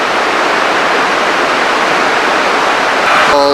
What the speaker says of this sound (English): Fountain falls below us,